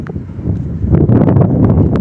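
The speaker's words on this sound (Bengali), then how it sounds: "বাতাস বইছে" Steady wind on a coastal sandbar buffeting the microphone, a broad rumbling gust that stays loud throughout with faint rustling on top.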